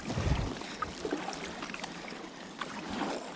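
Kayak paddling through choppy, windy water in Eastchester Bay: soft irregular splashes and water sloshing against the hull, fairly quiet, with light wind noise and no talking.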